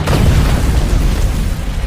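A landmine blast disables a military patrol vehicle: a loud, dense rumbling boom fills the moment and slowly decays.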